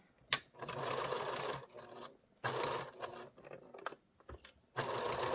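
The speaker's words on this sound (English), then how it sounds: "So then I'm just going to start stitching." A sewing machine stitches a wrap-around quilt binding in steady whirring runs, stopping briefly between bursts and then starting again, close and fairly quiet, with no voices.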